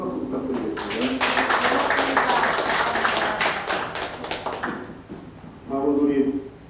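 Audience applause at an art exhibition opening in a Seoul gallery, a dense burst of clapping lasting several seconds before fading, followed by a short stretch of speech.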